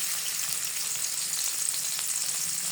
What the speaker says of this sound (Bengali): বাগার দেওয়ার জন্য আমি তেল দিয়ে দিই পেঁয়াজ দিয়ে দিই